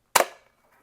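The slide of a toy Glock soft-bullet gun with shell ejection is yanked back and released, giving one sharp, close snap that rings briefly before fading into silence.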